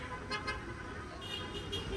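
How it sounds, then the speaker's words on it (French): Street traffic in Nazca, Peru, with cars and trucks rumbling by and short horn toots sounding repeatedly against a continuous road noise. "Ça klaxonne."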